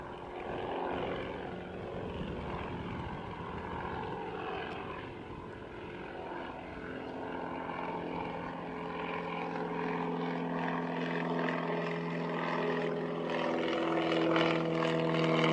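A general aviation propeller aircraft at Christchurch Airport drones steadily at a moderate distance, its engine hum rising and shifting in pitch over a long, continuous pass.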